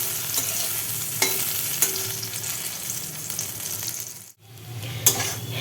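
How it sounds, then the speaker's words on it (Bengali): Eggplant frying in oil in a pan, a steady close sizzle with occasional stirring scrapes and clicks, briefly dropping out near the end before the sizzle resumes, with no talking. "এইখানে আমি প্রথমে বেগুনটা ভেজে নিচ্ছি, তারপরে আলু, ওলকপি আর ডাঁটা একসাথে ভাজবো।"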